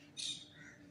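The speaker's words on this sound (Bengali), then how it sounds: "এই যে টিয়া পাখির দল যাচ্ছে ডাকছে" A flock of parakeets calls as it flies past, giving one short, shrill squawk burst followed by a fainter trailing call, heard from a distance outdoors.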